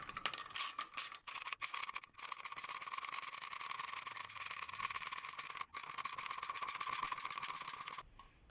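A nut on a Chamberlain garage door opener belt is tightened to tension the belt, heard as a steady, faint mechanical whirring like a power driver with brief breaks.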